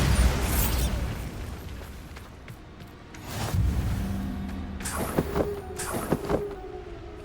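Bombarda spell explosions in the Hogwarts Legacy video game: heavy booming blasts with rumbling low end, one early burst and more bangs with crackling debris later, loud and close under game ambience.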